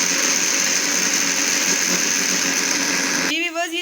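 A mixer grinder whirs loudly and steadily as it grinds onion masala with water, the motor running near and continuous before cutting off abruptly, leaving a brief quiet tail.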